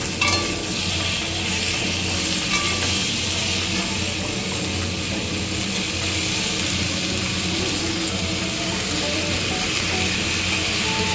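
Boiled mixed vegetables for a Bengali panchmishali torkari hit hot oil spiced with panch phoron, giving a loud, continuous close-up sizzle with stirring scrapes throughout.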